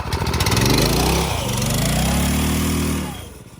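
A go-kart's small engine runs close and loud with a rough, pulsing mechanical drone, revving and then easing back before it cuts off near the end.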